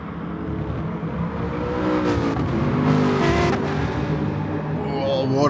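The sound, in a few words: Aston Martin and BMW race cars in a racing video game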